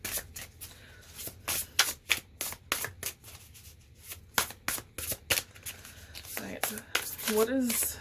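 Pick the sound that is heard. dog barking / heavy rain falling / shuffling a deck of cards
shuffling a deck of cards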